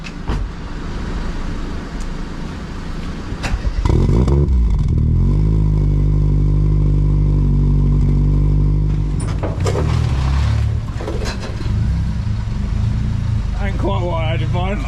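A Ford Fiesta fitted with a Focus RS turbo engine rumbles loudly as it is driven up onto a truck, engine revving and droning with clattering thumps, while people talk nearby.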